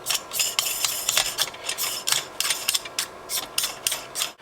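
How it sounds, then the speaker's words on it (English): A threaded ring turning onto the rail of a KWA SR airsoft rifle gives off a steady run of close, scraping ratchety clicks and grinding metal-on-metal rubs, repeating quickly and unevenly with no talking. "start screwing that ring around"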